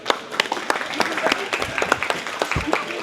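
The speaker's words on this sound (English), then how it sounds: "so give them a round of applause" A wedding reception crowd applauds with scattered, uneven clapping throughout, fairly close and steady, with a few sharper claps standing out.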